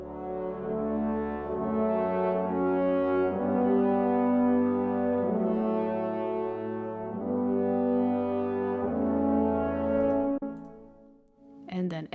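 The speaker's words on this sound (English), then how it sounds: "the brass with itself sounds like this" Orchestral brass section mockup of a piece from Lord of the Rings, sustained warm chords and a moving bass line played by the brass alone, full and steady for about twelve seconds before fading at the end.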